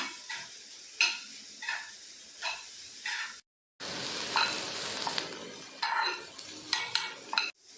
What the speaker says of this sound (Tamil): அவரைக்காய் போட்டு நல்லா லைட்டா மிக்ஸ் பண்ணி விடுங்க.